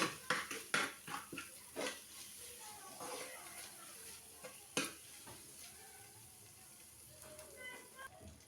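Spoon stirring and clinking in a pot of sizzling food during cooking, with repeated scrapes and taps over a soft fry, close and quiet.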